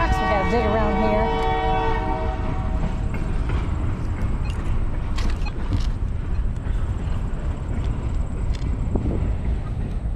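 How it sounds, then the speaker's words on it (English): A train horn blares loudly at the start with rich stacked tones, then fades into the steady rumble and creaking of rail cars rolling past nearby for the rest of the stretch. "I have to deal with that train blowing its whistle."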